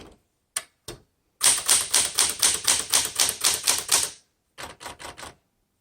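A 1966 Smith Corona Classic 12 manual typewriter typing alone and close, with a few separate key strikes, then a fast steady run of about a dozen crisp strikes, a pause, and a final short burst of keystrokes.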